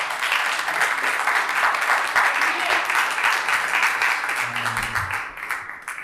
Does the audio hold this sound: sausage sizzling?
no